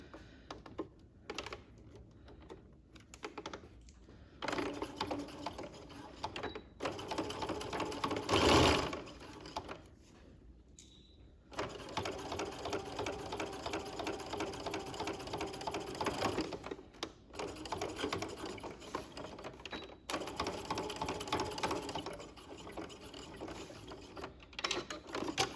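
Domestic sewing machine stitching a neck facing on a garment, running in several steady bursts of rapid, even mechanical whirring separated by short pauses and clicks.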